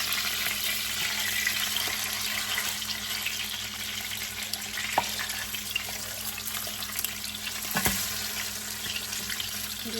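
Smothered pork chops sizzle steadily in a pan, a dense, even frying hiss that runs the whole time with a couple of sharp pops and crackles breaking through, no talking.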